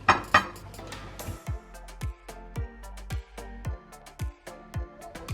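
Jello mix being stirred in a bowl, a steady series of clinking, scraping strokes repeating about twice a second, close and fairly quiet, with no talking.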